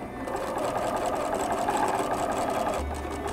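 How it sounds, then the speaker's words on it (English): A sewing machine runs steadily, stitching the mitered edges of a quilt from the outer edge to a marked dot, a continuous close whirring hum with a faint rhythmic needle pulse throughout. "I sew from the outer edge to the dot and backstitch"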